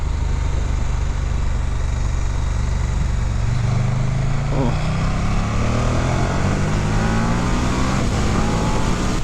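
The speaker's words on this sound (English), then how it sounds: "this engine, I've missed this 1290 engine" A KTM Super Duke GT 1290 motorcycle engine, a 2019 model, drones loudly and continuously with rising and shifting revs as the bike rides along, under steady wind rush.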